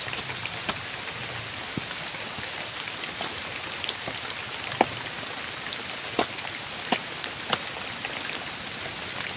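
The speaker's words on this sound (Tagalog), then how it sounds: "sobrang malakas na po yung ulan" Steady rain hisses across the whole clip, with scattered louder drips and taps landing nearby, no voices.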